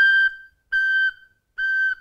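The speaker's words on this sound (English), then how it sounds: "That is called tonguing and it makes a beautiful sound when you play on the headpiece." Recorder headpiece played alone, tongued in three separate steady high toots of equal length with short silences between them, clear and close.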